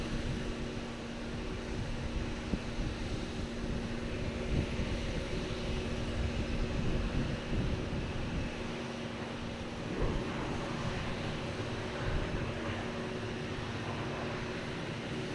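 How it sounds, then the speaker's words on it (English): A United airliner lands at Boston Logan Airport, its broad engine roar heard from a distance over a steady wash of wind noise. "That's okay though, United is landing."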